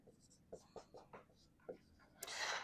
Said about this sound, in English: New color, we're only going to write one thing over here.